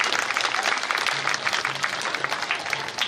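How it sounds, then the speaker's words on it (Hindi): Audience at a village gathering clapping loudly and steadily to welcome pandits for a yagna, dense continuous applause from a nearby crowd with faint voices mixed in. "आप लोग जोर ताली बजा के स्वागत करो"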